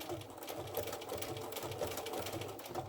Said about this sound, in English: the blanket stitch. You just use the needle on the outside of your applique here.